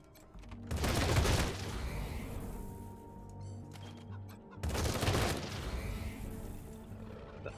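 Two bursts of gunfire in a turn-based Wasteland 3 battle, each a clattering volley lasting about a second, separated by several seconds of quieter combat ambience.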